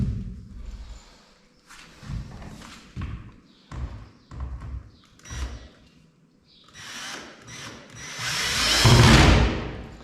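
A power drill drives screws into flooring in a Spanish cave house, with short whirring bursts and thumps separated by pauses, ending in a longer, louder run.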